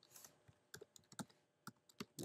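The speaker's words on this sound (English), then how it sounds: "type in your title, and save it." Someone types on a computer keyboard in short irregular bursts of crisp key clicks, close and fairly quiet, with a few louder keystrokes near the end.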